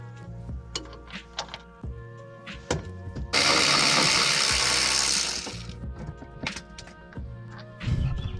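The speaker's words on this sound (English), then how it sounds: "You're gonna wanna use a 6-point 15mm socket for the 2 bolts that hold the caliper to the knuckle." Socket ratchet on brake caliper bolts during car track-day prep, scattered clicks and clanks, then a loud two-second burst of fast ratcheting or buzzing, followed by more tool taps, no talk.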